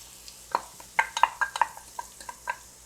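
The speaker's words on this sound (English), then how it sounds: "let it come to a nice sizzle like this" Beef and vegetables sizzle in a hot pan with sauce while a utensil stirs, with a series of sharp scraping clicks and clinks over a soft frying hiss.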